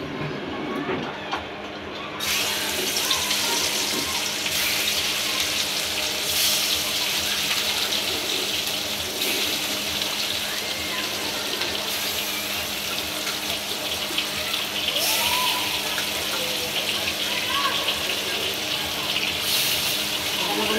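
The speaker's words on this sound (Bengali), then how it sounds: "কড়াতে তেল গরম হয়ে গেছে এবার আমি মাছটা দিচ্ছি তেলের মধ্যে" Fish pieces for a Bengali fish curry fry in hot oil in a kadai, giving a dense, continuous hiss that runs loud and unbroken, with a voice faintly present underneath.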